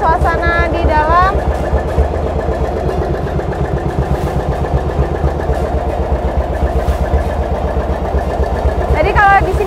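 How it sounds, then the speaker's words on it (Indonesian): A fishing boat's engine runs below deck on a Sukabumi fishermen's boat, a loud, steady low rumble with fast regular pulsing throughout, and brief voices surface over it near the start and end. "Jadi kalau di sini emang lebih berisik karena mesinnya itu ada di bawah sini."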